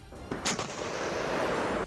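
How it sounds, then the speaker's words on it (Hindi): A tank fires a round of shells, a loud, sharp blast followed by a long, booming rumble that echoes out. "सबसे पहले टैंक को टारगेट की तरफ घुमाया गया और फिर एक साथ कई राउंड गोले दागे गए, जिसके बाद गोलाबारी की आवाज पूरे इलाके में गूंज उठी।"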